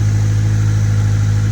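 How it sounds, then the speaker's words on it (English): A Honda Civic EJ1 with a D16Z6 engine idles high, a steady loud close hum with an even pulsing drone throughout and no talk. "The idle's a little high right now."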